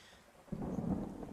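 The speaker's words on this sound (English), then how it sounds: "If the lightning and the rain, the thunderstorm sound effects are too loud." Thunderstorm sound effect with rain, quiet hiss that gives way to a deep rolling rumble of thunder, which swells suddenly and keeps rumbling to the end, no voices.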